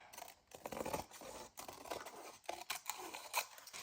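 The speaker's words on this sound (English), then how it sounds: "And then cut around this." Scissors snip around a paper denim-style craft tag, a quick series of close, crisp cuts and paper rustles with short pauses, no one talking.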